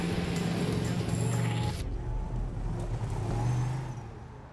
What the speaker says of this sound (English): All right, you got the engine warm now.